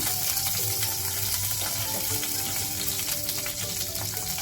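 Cumin, mustard seeds and buttermilk chillies crackling in about two spoons of hot oil for a tempering, a steady close sizzle with scattered pops and faint clinks, no talking.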